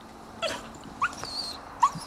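A dog whimpers and yips in short, faint bursts while straining toward meat it cannot reach, three brief high whines spaced across a quiet background.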